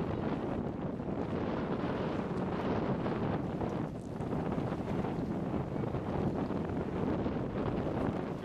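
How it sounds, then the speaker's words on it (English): Strong gusty wind from a storm roars across the microphone in a continuous, buffeting rush, loud and close, with no other sounds standing out. "that wind now, Maddie, that's coming off that storm"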